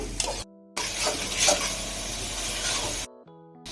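Capsicum tossed into a pan of frying onions and stirred, with a loud burst of sizzling and scraping broken by short near-silent gaps in which a faint steady hum remains.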